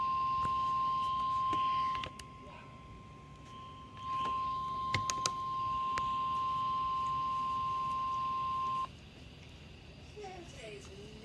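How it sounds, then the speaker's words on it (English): A NOAA weather radio warning alarm from the weekly test of station WXJ93 in Cridersville, Ohio: a steady, piercing single-pitch tone sounding for about two seconds, pausing, then resuming for roughly five seconds before stopping, with faint speech near the end. "This is a test of the NOAA weather radio warning alarm."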